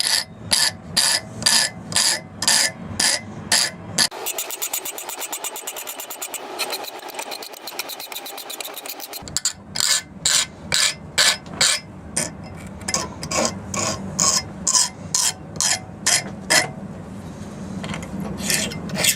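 A hand file rasps rhythmically across a horseshoe nail being shaped into a heart pendant, loud, close, regular back-and-forth strokes, with a few seconds of a different steady scraping midway and no talk.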